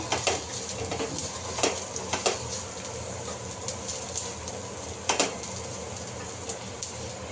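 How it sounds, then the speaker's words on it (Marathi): Garlic hits browned onions in a frying pan for masala dosa filling, giving a steady soft sizzle with occasional scraping stir strokes throughout, no voices. "आता आपण याच्यात लसूण ऍड करूया।"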